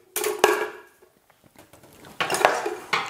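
A metal sieve set down in a home kitchen, two clattering metallic clanks with ringing, close and fairly loud, separated by a stretch of quiet small handling noises.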